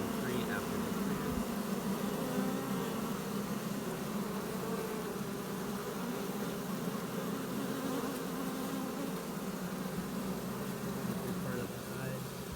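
Honeybees swarm around a newly set-up hive, giving a dense, continuous buzzing drone that holds steady at close range for the whole stretch.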